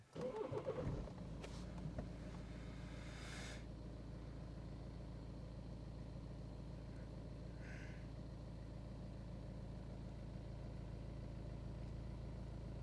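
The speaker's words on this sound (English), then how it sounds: "Let's start the engine." A BMW 118d F20 diesel engine cranks and catches, then settles into a steady, low idle that continues without a break.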